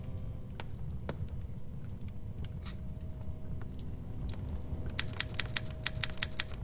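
Typewriter keys struck in the Roblox game Doors, a sparse scatter of clicks at first building to a rapid run of sharp, evenly spaced strikes near the end over a steady low rumble of background noise.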